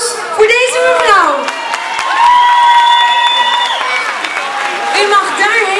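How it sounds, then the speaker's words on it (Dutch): Crowd applause and loud cheering for a woman going on stage at an outdoor car-free Sunday event, clapping mixed with whoops and shouted voices that swell and continue for several seconds. "En een applaus voor deze mevrouw."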